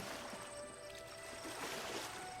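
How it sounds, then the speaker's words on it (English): Water gently lapping at the edge of a lotus pond, a soft, steady, continuous wash with faint trickling, heard alone and fairly close. "You hear the lapping of the water"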